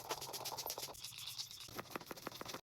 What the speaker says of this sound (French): Je vais juste mettre full up de spray fixateur.